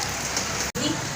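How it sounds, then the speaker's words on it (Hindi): Steady rain falling in a village, a dense even hiss that stays loud and continuous throughout with a brief break, no voices over it. "फाइनली अल्हम्दुलिल्लाह बारिश हो रही है"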